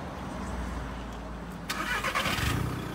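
A Volkswagen Polo with a chip power tune fault has its engine start after a faint background stretch, the cranking catching into a rougher mid-pitched rumble that settles toward idle, heard close and alone.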